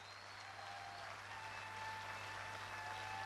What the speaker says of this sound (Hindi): अब तक की जोरदार तालियां बजाइए आप